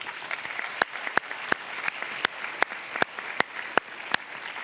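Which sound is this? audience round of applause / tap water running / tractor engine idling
audience round of applause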